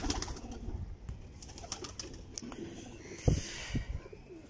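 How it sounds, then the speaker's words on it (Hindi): A Teddy pigeon of an original bloodline coos softly while held in the hand, low murmuring calls running through the clip with a louder flutter or burst near the end, close by and with no talk. "ओरिजिनल ब्लड लाइन से कोने वाले टैडी कबूतर उनमें से मैंने ये कबूतर पकड़ा हुआ है"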